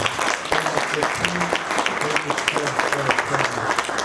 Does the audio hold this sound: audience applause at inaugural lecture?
yes